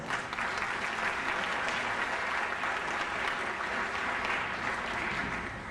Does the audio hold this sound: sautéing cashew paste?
no